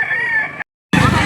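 A rooster crows close and loud at a Saturday poultry market in Lipa City, Batangas; one long strained call breaks off into brief silence before another crow starts.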